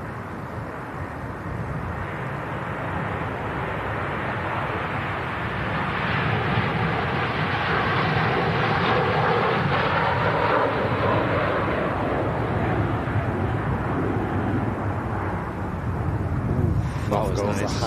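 An airliner bound for Beijing on its takeoff roll, a broad, steady jet roar that swells in the middle and holds loud throughout, with voices talking over it.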